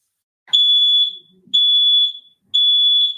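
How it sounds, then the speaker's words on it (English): A conventional smoke alarm lets out three loud, piercing, high-pitched beeps, each lasting about half a second, separated by short silent gaps, close and alone. "kids may not respond to the high-pitched screech of conventional smoke alarms."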